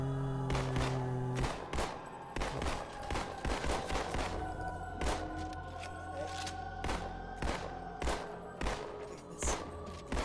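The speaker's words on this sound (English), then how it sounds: "it's shooting the little plasma burst things" Rapid, repeated plasma weapon shots in Halo 2 crackle at a steady uneven rhythm throughout, moderately loud over a constant low background hum of game ambience.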